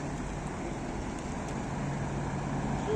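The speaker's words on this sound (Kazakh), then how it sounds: "Азыр мына КамАЗдын келгенин көрөбүз." A heavy truck's engine rumbles steadily, a continuous low drone with broadband road and wind noise throughout, no clear build or fade.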